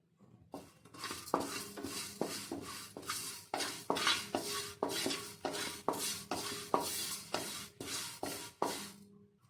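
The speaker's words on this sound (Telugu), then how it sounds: "స్టవ్ మీద ప్యాన్ పెట్టి అందులో కొన్ని మెంతులు జీలకర్ర కరివేపాకు ఇలా డ్రై రోస్ట్ చేసుకోవాలి" Fenugreek seeds, cumin and curry leaves are dry-roasted in a pan on the stove, heard as a steady, regular rhythm of scraping stir strokes, each one a soft rasp with a faint clink, about two per second.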